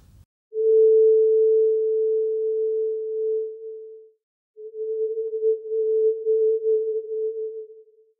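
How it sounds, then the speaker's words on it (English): A 440 Hz synthesized note, filtered to strip its harmonics, sounds as a pure, steady sine tone held for about three and a half seconds, then after a short gap returns slightly wavering for another few seconds. "it's not the fundamental note of 440 Hz, it's the artifacts and the harmonics above that that give it a particularly brassy or stringy sound. Now, here's that same note filtered."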